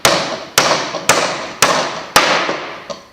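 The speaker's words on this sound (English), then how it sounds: "And that's it, your nail is driven." A hammer drives a nail into pieces of timber in a basic woodworking lesson, with six sharp, evenly spaced blows about half a second apart, each ringing briefly and close by, the last one softer.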